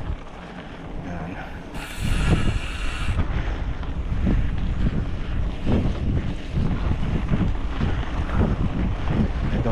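Loud gusty wind roaring across the microphone while riding a bike trail in General Trias, Cavite, continuous and buffeting, with a brief hissy burst early on.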